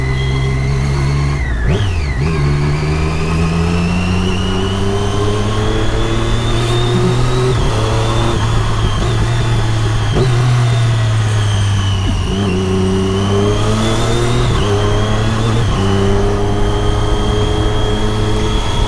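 A Triumph Daytona 675R three-cylinder motorcycle with a loud, close exhaust idling and being revved. The engine sends up several quick blips and rising, whistle-like swells over a constant throaty drone, with no talking.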